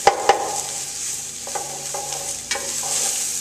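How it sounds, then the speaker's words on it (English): Onions with a little salt stirred around in hot oil in a pan for butternut squash bisque, a steady close sizzle broken by a few sharp scrapes and taps of the spoon. "You want to stir them around really good so that the oil coats all the onions and they're going to cook evenly as well."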